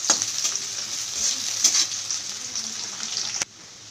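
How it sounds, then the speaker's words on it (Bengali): Chopped onions frying in hot mustard oil, a steady close sizzle with occasional stirring scrapes, ending abruptly into quieter hiss; no talk. "পেঁয়াজটাকে ভালো করে ভাজা করে নেব।"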